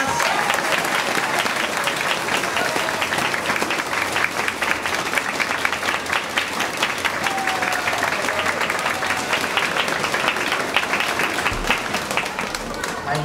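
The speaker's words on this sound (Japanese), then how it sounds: "もう一度大きな拍手をお願いいたします" A large audience at a live brass band concert keeps up a thick, steady wash of applause, loud and unbroken for several seconds, with faint voices mixed in.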